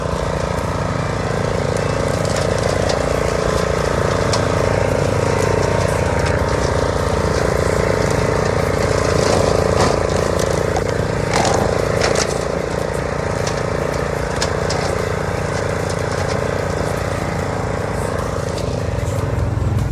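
Hisun Sector 750 UTV driving through brush on wooded trails, its engine droning steadily and loud up close, with branches and brush scraping and whacking against the vehicle.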